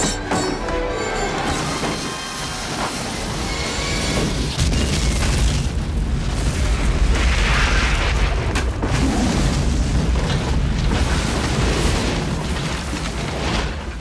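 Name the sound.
explosion in the film The Mask of Zorro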